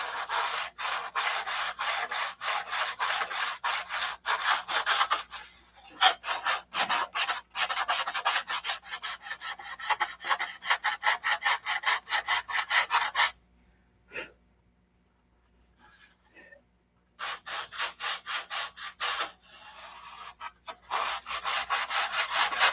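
Sandpaper rubs a P-47 model cowl in steady, close back-and-forth strokes, pausing briefly near the middle before resuming at the same brisk pace, with no voices.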